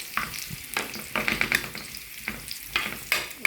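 Meat frying for kala bhuna crackles as green chilies and spices hit the pan, with irregular sizzling bursts and stirring scrapes, faint and close, with no talk.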